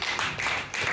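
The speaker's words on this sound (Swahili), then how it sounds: "Hebu mpigie Bwana Yesu makofi." Congregation clapping for Jesus during a church sermon, a dense burst of hand claps lasting about a second at moderate loudness.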